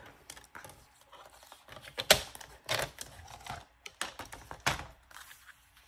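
Paper is cut for a scrapbook album in a run of quick, dry, crisp snips and clicks, uneven in rhythm and close by, with a few louder cuts standing out and no talking.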